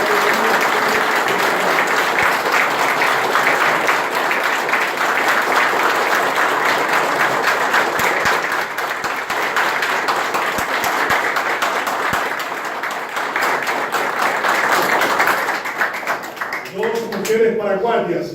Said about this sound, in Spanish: Un aplauso a los activistas.